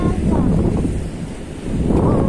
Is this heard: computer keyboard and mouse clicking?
no